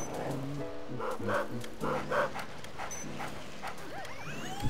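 A cartoonish dog in the Luigi's Mansion video game barks in a series of short, rhythmic yips amid game music, followed by a whimpering tail.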